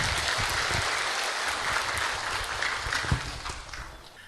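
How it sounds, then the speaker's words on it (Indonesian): Hearty audience applause for a provincial governor at a university launch ceremony, a continuous wash of clapping that gradually tapers off toward the end. "boleh kita berikan tepuk tangan yang meriah"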